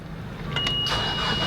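A narrowboat engine on the Erie Canal cranks and catches, settling into a steady running hum right up close, with a brief whir as it turns over.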